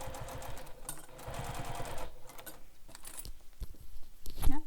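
A sewing machine stitches a handbag with short, reduced-length stitches, running in quick bursts of rhythmic needle patter close up, with brief pauses and a few clicks and handling noises toward the end.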